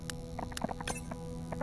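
A sperm whale's echolocation clicks in the underwater game Beyond Blue, rapid irregular sharp clicks over a low hum, fairly close and moderately loud with no talk.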